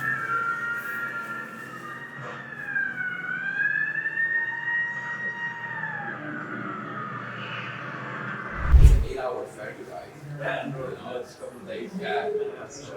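A fire engine siren in Tirana, Albania wails steadily in the distance with a rising and falling tone, under background voices and a brief loud thump.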